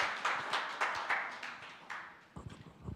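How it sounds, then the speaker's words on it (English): Scattered clapping from a gala dinner audience after a speech, a few distinct hand claps in an uneven rhythm, moderately close, fading toward the end with some light rustling. "Another round of applause, kindly."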